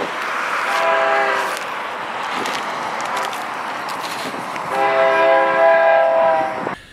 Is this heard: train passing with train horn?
yes